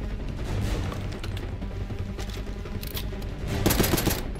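Rapid gunfire in the video game Call of Duty: Black Ops 6, dense bursts of automatic shots layered over game noise, with a louder burst near the end.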